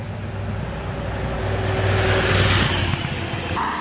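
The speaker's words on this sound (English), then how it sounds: "Bonus, a loud bike" A loud motorbike on a town street roars past, its engine note swelling to a peak midway before easing off as it moves away.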